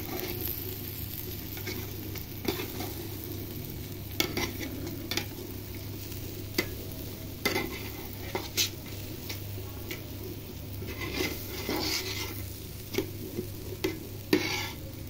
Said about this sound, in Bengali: এবার এগুলোকেও কষিয়ে নেব বেশ কিছুক্ষণ।